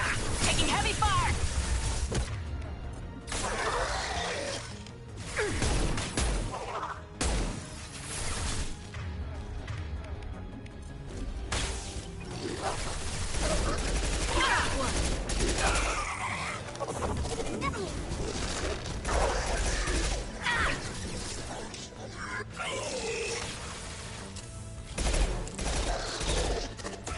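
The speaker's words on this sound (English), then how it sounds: "Taking heavy fire." Heavy gunfire in the sci-fi shooter Mass Effect 2, with sustained bursts of automatic weapon fire and impacts filling the scene for nearly half a minute, rising and dipping in loudness, with voices talking over the combat.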